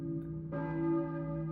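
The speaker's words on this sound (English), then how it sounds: "Who's ringing the bell?" A church bell tolls in the eerie small town of Silent Hill 2, a low sustained ring with layered overtones, joined by a brighter struck tone partway through, alone and fairly faint.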